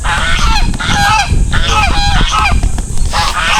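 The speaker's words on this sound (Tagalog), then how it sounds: "Ayan yung gansa oh." Geese honk repeatedly in loud, close, overlapping calls, a nasal chorus that rises and falls in uneven bursts throughout, with no talk.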